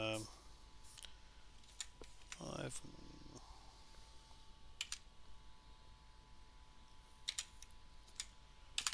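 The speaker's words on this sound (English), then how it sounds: "Let's try typing" Sparse keyboard clicks of typing on a computer sound faintly and at irregular intervals against a quiet background, with a brief burst of other noise partway through.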